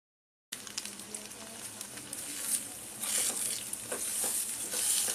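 Eggs frying and sizzling in a pan on a medium gas flame for egg bhurji, a steady crackling sizzle that starts abruptly and grows louder, with stirring scrapes and spitting bursts close by.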